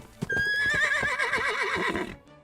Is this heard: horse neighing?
yes